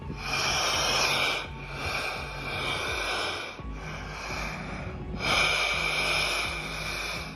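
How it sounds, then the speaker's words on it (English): Water waves surging among coastal rocks make a hollow, rhythmic breathing sound, with long rasping inhales and exhales repeating about every two seconds, fairly close and steady with no voices. "The water waves make it sound like these rocks are breathing."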